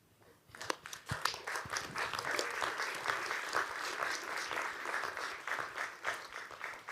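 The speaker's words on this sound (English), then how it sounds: "The job that is done at this secretariat and the way it is done deserve applause." Sustained applause from a retreat audience honoring the World Secretariat, starting with a few scattered claps and swelling into a dense, steady ovation that fills the room and continues throughout.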